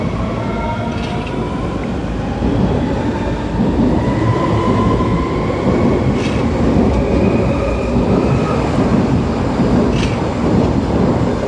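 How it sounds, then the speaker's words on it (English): A local commuter train pulls out of a station in Mainz, Germany, its steady rumble and rail noise building slightly, with faint squealing tones drifting above, heard alone throughout. "And one more local commuter train pulling out on its way somewhere."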